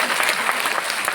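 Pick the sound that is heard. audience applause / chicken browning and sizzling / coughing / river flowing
audience applause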